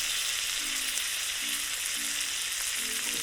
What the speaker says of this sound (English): I added a bit of oil and now we cook them on both sides